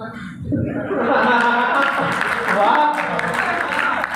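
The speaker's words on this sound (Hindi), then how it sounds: "तालियां कम है आपकी" Audience applause mixed with chuckling and laughter at a comedy or poetry stage show, a steady mid-level crowd clapping lasting a few seconds.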